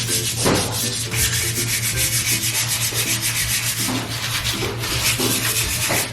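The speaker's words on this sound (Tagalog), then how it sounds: "kaya siya nililiha ngayon para mas kumapit yung pintura mamaya pag nilagay niya" Sanding a surface at home to prepare it for painting produces continuous loud, close rasping strokes in a steady back-and-forth rhythm, with a constant low hum running underneath.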